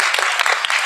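Audience applause for a touring musician at an English and music cultural event, a steady dense patter of many hands clapping close and loud through the whole short stretch.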